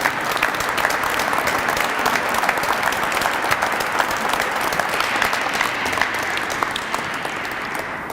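Loud, sustained applause from a large crowd at a Dr. Martin Luther King celebration, dense clapping that holds steady and tapers slightly toward the end.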